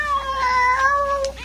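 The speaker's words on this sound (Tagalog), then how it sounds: "pusa lang pala." A cat gives one drawn-out, tonal meow outside a servants' quarter at night, clear and fairly close, sliding down in pitch before a brief faint follow-up sound.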